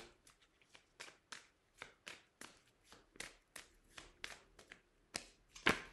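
Tarot cards being handled on a table make a quick, close run of crisp slaps and taps in an uneven rhythm, ending on one louder snap.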